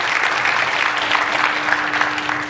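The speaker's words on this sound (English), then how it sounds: "Yeah, you guys can do the clapping thing." Applause from an audience at a talk on Israeli apartheid and Palestinian movements, a steady, dense clapping that carries on without a break for a couple of seconds.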